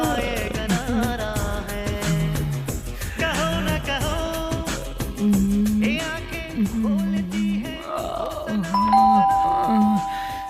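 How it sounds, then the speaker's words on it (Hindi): A doorbell rings with ding-dong tones over loud film music in a Hindi-dubbed action movie, the bell chimes rising clearly near the end above the song. "बीच में आके कौन घंटी बजा रहा है?"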